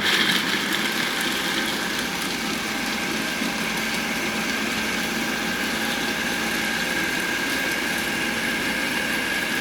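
Food processor running steadily, blending icing sugar into a chocolate spread; a continuous loud motor whir fills the whole stretch without talk.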